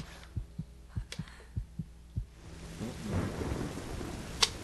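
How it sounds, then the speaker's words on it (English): Thunder and rain in the video game Tomb Raider: a run of deep, regular thumps gives way to a rising wash of rainfall, with a sharp crack near the end. "It's raining."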